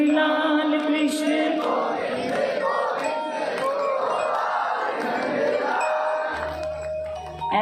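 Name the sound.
crowd chanting a Krishna bhajan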